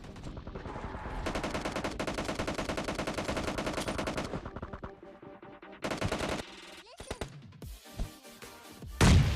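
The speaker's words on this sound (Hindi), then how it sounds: "राइट साइड जो स्क्वाड हाउस होता है उधर से बहुत खतरनाक वाली फायरिंग की आवाज़ आ रही थी" Rapid automatic gunfire in PUBG Mobile Lite rattles continuously for several seconds, followed by scattered single shots and thuds amid game sound effects, with no talking.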